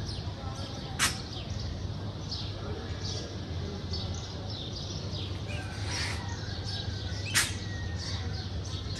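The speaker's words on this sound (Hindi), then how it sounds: "क्या खूबसूरत माशाल्लाह से मंजर है चिड़ियों की चहचहाने की" Birds chirp and call outdoors under a cloudy sky near houses and a market, a few sharp bright calls standing out over a steady low background hum, moderately distant.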